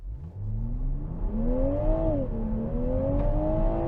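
A 2021 Toyota GR Supra 3.0 in normal mode accelerates hard from a stop through the gears, its engine note rising steadily in pitch and dipping briefly at a shift, loud and continuous with no talking.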